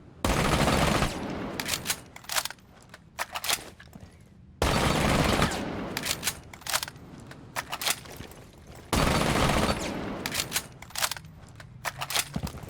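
Three long full-auto bursts from an SMG11 in Rainbow Six Siege, each a loud rapid stream of shots lasting about a second, followed by scattered clicks and shell clatter before the next burst.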